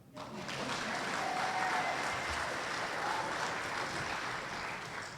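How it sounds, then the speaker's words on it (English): Steady applause from a large crowd at a police department promotional ceremony, sustained and fairly even throughout, with a dense wash of many hands clapping at once. "Now you can clap."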